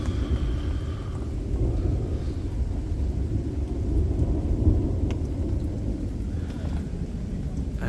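Heavy downpour of rain and hail lashing an outdoor fishing swim at a club water, a dense, steady roar with low rumbling throughout, loud and continuous with no voices.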